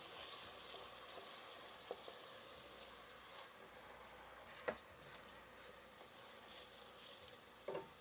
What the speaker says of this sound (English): We're going to get this butter all nice and melted